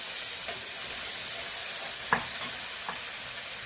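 Small shallots frying in coconut oil in a pan, a soft, steady sizzle with a few faint stirring clicks, fairly quiet throughout.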